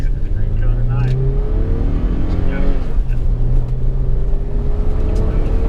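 A Toyota 4Runner on snow tires laps a winter driving-school track at Bridgestone. Its engine drones loud and close, holding a steady pitch, then climbing and falling as the throttle rises and eases.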